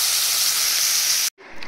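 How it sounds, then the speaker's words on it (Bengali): Leafy greens (shak) frying in a pan give a loud, steady hiss that runs unbroken, then cuts out abruptly near the end before faint sizzling returns. "এখানে এখন শাকটা ভাজছি"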